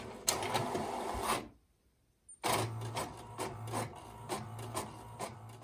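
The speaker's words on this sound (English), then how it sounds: "If you guessed a printer, you're right." A printer runs with rhythmic mechanical clacking and whirring, pausing briefly for a near-silent gap before resuming its repetitive chugging passes.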